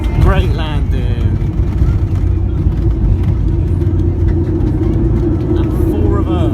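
A Thomas Cook Airlines Airbus A321-231 roars loudly and steadily with deep, rumbling reverse thrust just after landing, heard from inside the cabin as a continuous, powerful engine noise.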